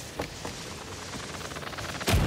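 Gunshots in the cartoonish brawler Party Animals: a few sharp distant pops spaced apart, then a loud close blast near the end, set against a steady game background with no talking.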